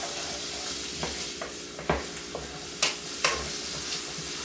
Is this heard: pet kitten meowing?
no